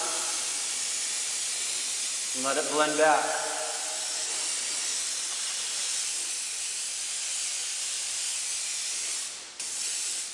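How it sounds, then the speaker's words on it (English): Red spray paint hissing from an aerosol can onto a car model, a steady broadband spray running for most of the clip, with a short spoken phrase near the start. "I'll let that dry up just a hair, and then I'm going to spray red on it"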